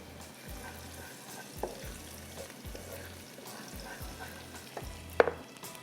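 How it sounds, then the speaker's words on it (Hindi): Garlic fries in oil in a pan, a soft steady sizzle under repeated low thumps of stirring and a sharp clink of a utensil near the end. "लहसुन डाल के आपने थोड़ा सा लहसुन को फ्राई करना है"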